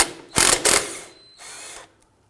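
A ratchet works a 15 millimeter nut on a 2008-2011 Ford Focus front ball joint, two quick loud bursts of clicking followed by a softer, longer run before falling silent.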